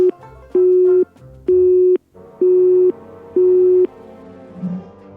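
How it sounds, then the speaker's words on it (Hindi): A phone line's busy tone beeps four times at a steady rhythm, each loud tone about half a second long with short gaps, alone and clear, during an unanswered call in a Hindi cartoon. "ये देखकर सपना सबको फोन करती है, लेकिन कोई भी नहीं उठाता।"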